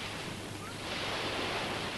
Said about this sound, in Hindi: ये धूप, ये रेत, समंदर का किनारा।